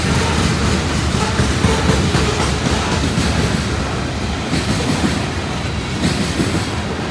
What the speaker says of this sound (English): Loaded grain train.